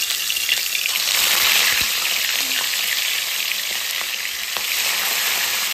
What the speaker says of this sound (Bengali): এবার একে একে মাছগুলো দিয়ে দেবো তেলটা গরম হলে